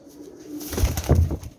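A pigeon being released from the hand, with a brief soft flutter and rustle of wings rising over about a second and then fading, close by and fairly quiet.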